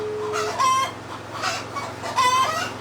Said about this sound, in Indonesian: ini ayam deh